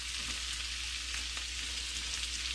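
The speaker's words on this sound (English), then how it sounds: "I'm just going to let it fry up here a little bit." Cabbage fries in a pot, a soft, even sizzle with a low steady hum beneath, quiet and unbroken throughout.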